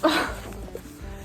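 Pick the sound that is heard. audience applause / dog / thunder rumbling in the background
dog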